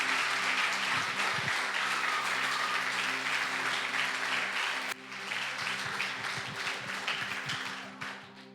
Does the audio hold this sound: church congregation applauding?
yes